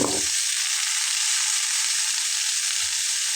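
Vegetables tipped into a hot pan already seasoned with turmeric and salt, sending up a steady, loud broadband sizzle after a brief clatter at the start, frying continuously with no voices.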